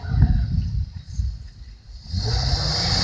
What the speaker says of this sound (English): the CV joint over there is busted, and well, you can probably hear that wonderful noise it's making.